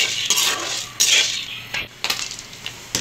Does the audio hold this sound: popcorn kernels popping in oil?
yes